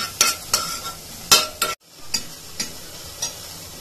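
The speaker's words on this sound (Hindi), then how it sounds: "अब इनको भी मैं कुछ सेकेंड्स के लिए फ्राई कर लूंगी" Turmeric, coriander and roasted cumin powder fry briefly in a pan for a baby's moong dal vegetable khichdi: a soft sizzle under a series of sharp spoon knocks and scrapes against the metal, with one brief pause midway.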